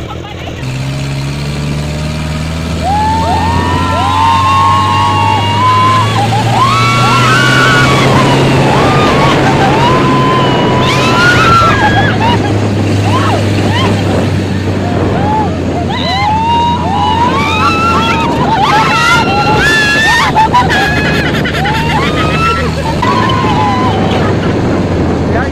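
A 4x4 off-road vehicle drives on the Laoag sand dunes, its engine droning loudly and steadily for a long stretch under buffeting wind on the microphone, while people talk and shout over it throughout.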